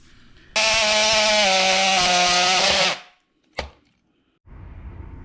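A power saw cuts through an old burst outside spigot pipe, with a loud steady whining buzz for a couple of seconds, then a single sharp clack and a quieter rustling afterward.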